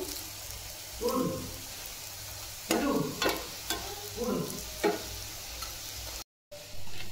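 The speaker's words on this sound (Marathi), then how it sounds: "तर आता झाले फ्राय करून." Dough fritters deep-fry in hot oil with a steady sizzle, broken by several louder bursts of bubbling as they are stirred, close by and without speech.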